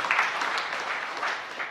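A church congregation gives a brief, moderately loud round of clapping during a sermon, a dense patter lasting under two seconds.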